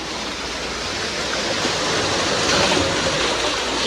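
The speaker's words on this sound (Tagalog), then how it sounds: "Lakas ng alon." Strong sea waves churn and crash against large rocks around an island at El Nido, a steady, loud wash of surf that swells slightly near the end, with no voices.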